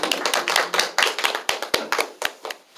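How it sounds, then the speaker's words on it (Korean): An audience claps for a lecturer after a talk on caregiving at a civic forum: a steady patter of hand claps in a room, close and fairly loud, thinning out and fading over a few seconds. "다시 한번 박종민 강사님께 힘찬 박수 부탁드리겠습니다"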